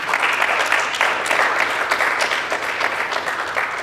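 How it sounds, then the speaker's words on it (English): Sustained applause from a crowd at a fire science academy graduation, dense and steady clapping filling the room for several seconds. "turn around, and clap for your family members that supported you"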